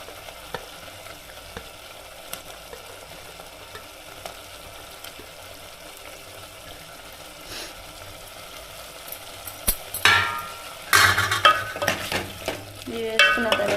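Dried pond fish of three kinds frying in a pan for a village-style curry: a faint, steady sizzle with light scraping, rising to louder bursts of stirring and crackling toward the end.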